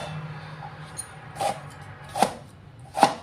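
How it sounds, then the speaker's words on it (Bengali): A knife chops tomato on a cutting board, three distinct sharp knocks at an unhurried pace, close and clear against a quiet background. "খিচুড়ির মধ্যে টমেটো কুচি করে দিয়ে দিব।"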